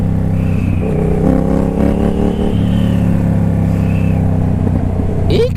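A Yamaha FZ motorcycle engine revs steadily up close, a continuous rumbling drone with rising and falling harmonics over several seconds and a brief sharp clatter near the end.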